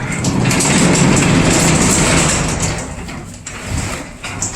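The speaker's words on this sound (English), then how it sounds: "I'm gonna have to close this garage door" A garage door closes with a loud, continuous rumbling rattle up close, then eases off and trails into quieter scraping and clattering toward the end.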